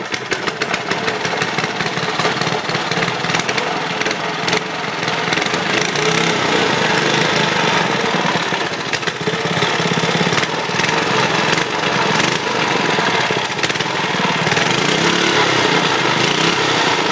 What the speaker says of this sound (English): You see the motor now? Here we go, try to get her going.